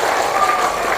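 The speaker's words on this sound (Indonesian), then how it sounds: "tepuk tangan dong buat semuanya" A group of kindergarten children claps together in a short, loud burst during a story session at an Islamic preschool.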